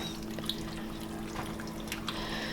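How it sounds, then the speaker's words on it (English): Liquid is poured into a pot of simmering chicken pumpkin chili, a faint, steady watery trickle with a few small drips, quiet and close. "I am going to add a little bit more liquid here."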